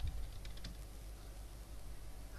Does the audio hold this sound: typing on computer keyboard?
yes